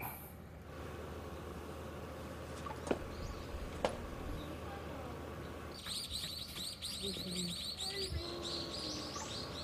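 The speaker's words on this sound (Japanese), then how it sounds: "トンビトンビ。" A black kite calls somewhere above a seaside resort hotel in Shirahama, Wakayama, as a few thin high cries carry from a distance through steady outdoor ambience, with other small birds chirping faintly.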